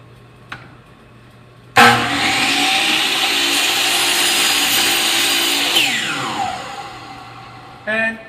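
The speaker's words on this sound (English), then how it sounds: "now I'm actually just going to cut the next piece here, but I'm going to look at this side of the blade" A power saw blade bites into a wood board cut for a treasure chest, a loud sustained whining rip lasting about four seconds that winds down, with a faint tap before and a short noise after.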